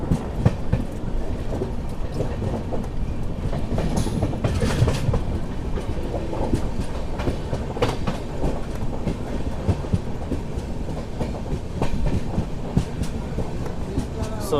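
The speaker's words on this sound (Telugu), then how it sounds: "సో మన ఎదురుగా చూసుకుంటే ధర్మవరం నర్సాపూర్ ఎక్స్ప్రెస్ అయితే వస్తుంది" The Dharmavaram–Narsapur Express rumbles past close by, a steady loud roar of rolling wheels with rhythmic clickety-clack over rail joints throughout, heard from aboard another train.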